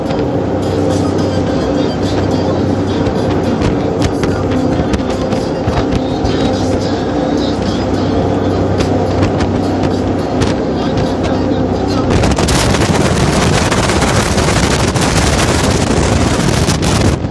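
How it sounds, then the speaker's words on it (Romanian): An 850 hp speedboat drifting on water in New Zealand gives a loud, constant engine roar with rushing water and heavy wind buffeting, and the noise surges harder near the end. "Efectiv de-a latul pe apă cu o barcă de"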